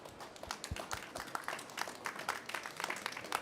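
Audience applauding panelists at a clean energy infrastructure conference, a moderate round of individual claps with distinct hand strikes, fairly close and steady throughout.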